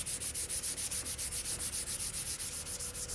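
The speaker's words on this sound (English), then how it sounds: "I'm going over all of these tops with 400 grit sandpaper in between each coat" Hand sanding with 400 grit sandpaper over water-based polyurethane on French Provincial furniture tops, a close, rhythmic back-and-forth rasp repeating about five strokes per second, steady and alone.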